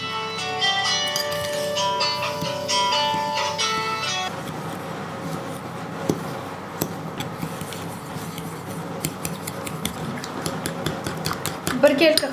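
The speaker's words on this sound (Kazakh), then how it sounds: "200 грамм қантқа 3 жұмыртқа салып араластырамыз." Sugar and eggs are whisked together for Napoleon cake cream, a busy run of rapid metallic whisk taps against a bowl, with bell-like tones ringing over the first few seconds.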